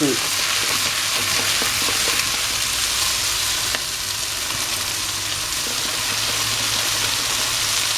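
Poulet DG (Cameroonian chicken dish) bubbles and sizzles steadily in a pot at close range, a continuous crackling hiss.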